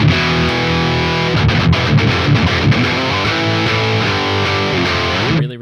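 A high gain electric guitar tone from the Neural DSP Archetype Nolly X plugin plays loud and dense: sustained distorted chords and riffing that fill the clip and cut off abruptly at the end.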